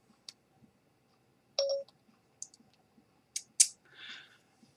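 An iPhone 4S plays a brief electronic activation chime after its home button is held, a single clean beep standing out among a few light clicks in an otherwise quiet room.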